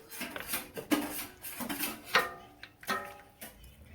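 Pork adobo ingredients stirred in a pot, a run of close, irregular scraping and clinking knocks of a utensil against the pot, with no talk.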